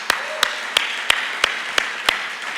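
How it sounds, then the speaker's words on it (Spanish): In a Sunday church service, the congregation gives the worship team a round of applause, heard as a series of about eight sharp, evenly spaced claps over a faint background of voices. "si me acompañan a darle un fuerte aplauso al equipo de alabanza"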